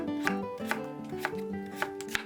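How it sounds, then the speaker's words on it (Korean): A knife slices radish into thin, flat pieces on a cutting board, giving five crisp, evenly spaced chops close by with no talking. "납작하고 얇게 썰어주세요."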